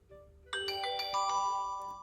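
A short chiming bell notification alert rings out clearly, several bright struck tones in quick succession that ring and fade, with no talking.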